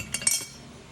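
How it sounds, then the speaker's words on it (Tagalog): A utensil clinks sharply against a bowl two or three times while stirring egg mayo sandwich filling, then the scraping settles into a faint, soft rustle. "Haluin na natin."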